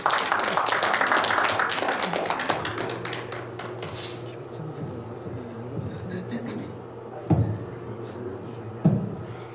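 Audience clapping at a humanities lecture in a cultural centre hall, dense applause at the start that thins and fades, with a few scattered knocks afterward.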